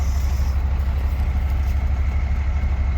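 A first-generation Cummins diesel truck with a stainless MBRP exhaust idling, a steady low rumble with a fast even knock, heard from a few paces back.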